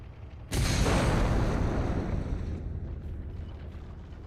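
A massive bomb detonation in Ace Combat 6: Fires of Liberation erupts suddenly after a brief lull, a loud broadband blast that rolls on into a long, slowly fading roar.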